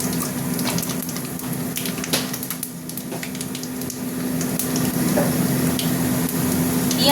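Panch phoron and two dried red chillies hit hot oil for okra curry, giving a steady soft sizzle and crackle with scattered small pops, close by and moderately loud, with no talk over it.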